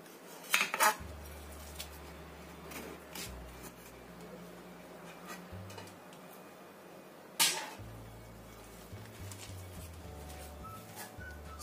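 A knife cuts a cooled, firm slab of potato and tofu nugget mixture on a board, with a few sharp knocks of the blade against the surface over a low steady background hum.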